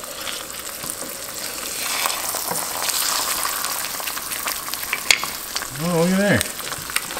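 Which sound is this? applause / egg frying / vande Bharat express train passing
egg frying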